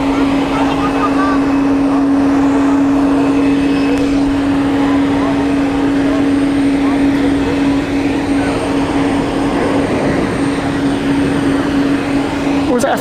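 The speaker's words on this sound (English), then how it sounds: "Oh, it's a Falcon 900 XL." Dassault Falcon 900 XL business jet at Zurich Airport, a steady broadband engine roar with a sustained hum, heard continuously from an observation deck, with people talking faintly over it.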